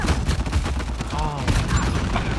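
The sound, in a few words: gunfire in Uncharted 4 multiplayer video game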